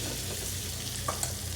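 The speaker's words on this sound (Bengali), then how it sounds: "এখন এই ডিমটা ফ্রাই করে পাস্তার উপর দিবে বাটার দিয়ে" An egg fries in butter in a pan for pasta, giving a steady, close crackling sizzle throughout with a couple of brief louder pops near the end and no talking.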